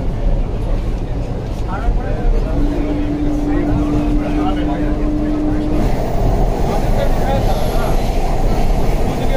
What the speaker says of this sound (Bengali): নদীর নিচে দিয়ে এবার আমাদের ট্রেন প্রবেশ করবে। ট্রেন এখন হুগলি নদীর নিচে।